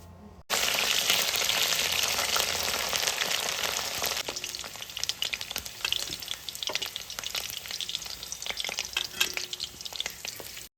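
Potato pieces fry in hot oil in a pan with a loud, steady sizzle, while intermittent stirring scrapes and clatters through the crackle; no voices.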